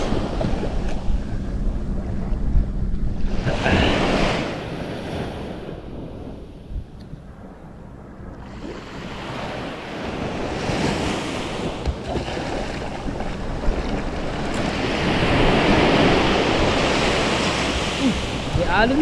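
Ocean waves surging and washing around a small boat near the shore, loud and continuous with heavy wind buffeting the microphone, one swell rising in the middle and another building toward the end, with occasional voices mixed in.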